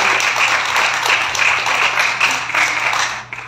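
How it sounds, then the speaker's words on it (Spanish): Audience at a lucha libre wrestling press conference gives a sustained round of applause, a loud, even patter of many hands that tapers off at the end. "Un aplauso para ellos,"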